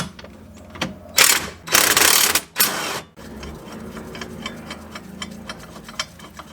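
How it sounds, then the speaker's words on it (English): Ratcheting and clicking from an 18mm wrench and socket loosening a trailing arm bolt on a BMW E36, with a loud burst of grinding mechanical noise early on, then steady close ticks. "now you use an 18mm wrench on one side and use the same 18mm socket"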